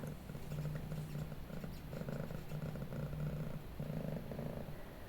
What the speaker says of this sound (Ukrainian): Тільки вушка видно і силует муркотіти почала